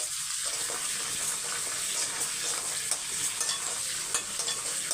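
Ingredients fry and sizzle in a pan while being stirred, a steady close crackling hiss with occasional scraping clicks.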